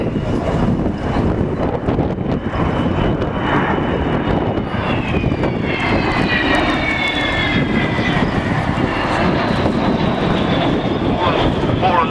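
A large Avro Vulcan jet bomber roars past nearby at an air display, a loud continuous engine rumble with rising and falling whine, buffeted by wind noise.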